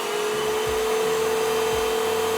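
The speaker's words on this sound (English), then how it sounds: "but let's kick on the vacuum here." A vacuum cleaner powered by an Aferiy AF-P210 portable power station runs with a loud, steady motor whine and airy rush, with a couple of low thumps as it moves.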